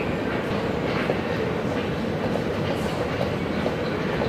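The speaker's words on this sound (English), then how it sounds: "So we're gonna catch a train." A train in France rumbles steadily along the rails with a continuous, loud rolling noise and faint rhythmic clatter, heard from on board.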